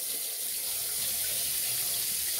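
A water tap runs steadily into a sink before hair washing, a constant close hiss of flowing water with no talk.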